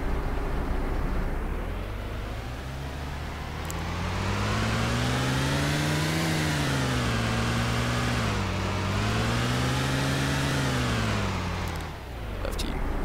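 A car engine in the Arma 2 video game, Chernarus life mod, droning steadily as it drives, pitch rising and falling through gear changes and revs for several seconds.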